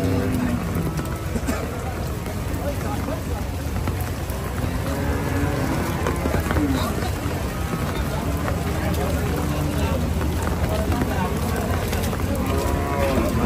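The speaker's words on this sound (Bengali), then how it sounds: "দেখেন গরু আইতেছে" Cattle low and moo repeatedly at a rain-soaked village cattle market, Hazratpur haat, the calls rising over a dense din of crowd chatter and splashing, continuous background noise.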